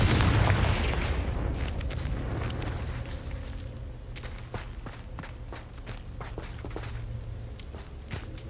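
A Confringo blasting spell in Hogwarts Legacy bursts with a loud, booming explosion that fades over a couple of seconds, followed by a steady run of light footsteps.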